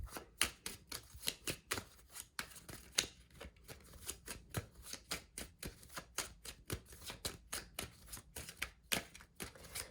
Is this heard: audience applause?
no